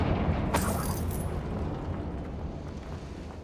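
A Confringo fire spell explodes in Hogwarts Legacy with a sudden bright burst, then a rumbling, crackling roar that slowly fades over a few seconds, loud and close, with no talking.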